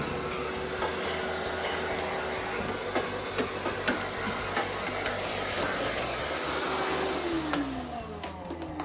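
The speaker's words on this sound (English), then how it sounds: "use a vacuum with a crevice tool, a little narrow crevice tool, to clean out the port where the filter goes" A vacuum fitted with a narrow crevice tool cleans out a clothes dryer's lint filter port, giving a steady loud motor whine with a drop in pitch near the end, plus scattered knocks and rattles as the nozzle moves around.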